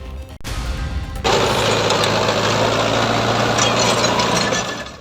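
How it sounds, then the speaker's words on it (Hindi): A tractor engine runs steadily and loud, driven over a rain-damaged crop field in Bargarh, Odisha, with a sustained low rumble and broadband roar that swells after a brief knock near the start. "जहां एक किसान ने बारिश से खराब हुई फसल पर ट्रैक्टर दौड़ाकर उसे नेस्तनाबूद कर दिया"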